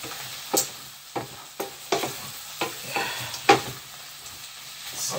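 Sausages and bacon in a homemade stir fry sizzle in the pan while a utensil scrapes and stirs them, about eight sharp stirring strokes over a steady low frying hiss, close up with no talking.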